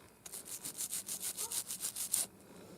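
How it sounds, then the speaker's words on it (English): A rag rubs alcohol ink off old gold-tone jewelry in about a dozen quick, even back-and-forth strokes, close and crisp, with no talking. "So I'm going to keep rubbing this until I get that look that I want."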